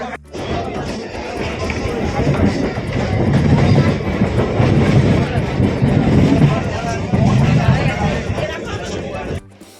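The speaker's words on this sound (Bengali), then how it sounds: "এখান শিয়ালদা থেকে আবার একটা ট্রেন দেখি কতক্ষণে পৌঁছাই" A local train from Sealdah rumbles along with a loud, continuous clatter and rattle of carriages heard from onboard, and voices of passengers are audible over the noise.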